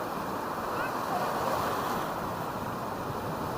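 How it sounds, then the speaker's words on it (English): Ocean waves wash steadily onto the shore at Paniman Beach in Puerto Azul, a continuous broad rushing surf roar with no clear breaks. "Here comes the waves."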